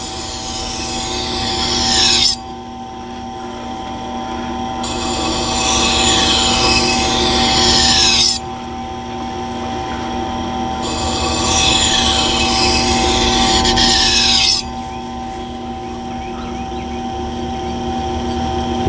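Kitchen knife being sharpened on a Tormek T-2 Pro sharpener, a steady grinding hum with three loud scraping strokes of the blade against the wheel, each a few seconds long, separated by quieter running.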